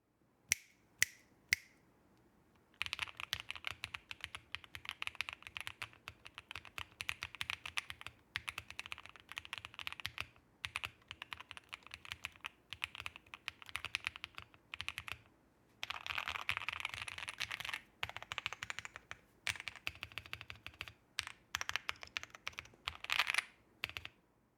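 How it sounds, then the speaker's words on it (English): Fast typing on a QK65 custom mechanical keyboard, crisp clacky keystrokes in bursts with short pauses, close up, after a few isolated key taps at the start. "now that the keyboard is done, I'll give you a quick sound test for now"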